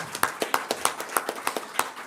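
Crowd applause for an event organiser at a gathering about Grana cheese and permanent meadows, heard as sparse, separate claps at a fairly even pace, moderately near.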